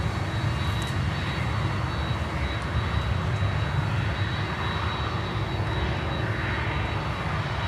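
A DHL cargo jet's engines roar steadily at an airport, a broad, continuous rumble with a faint high whine on top, moderately loud and unbroken throughout, with no voices.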